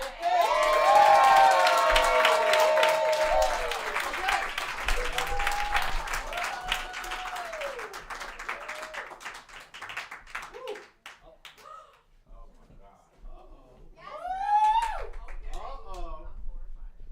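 An open mic audience applauds and cheers after a spoken-word piece, loud clapping and whoops for several seconds that fade, then a short second burst of cheering near the end.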